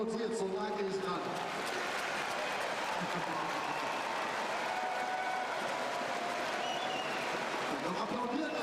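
Indoor hockey crowd applauding steadily through a men's World Cup semi-final between Germany and Iran, a dense continuous wash of clapping with voices mixed in throughout.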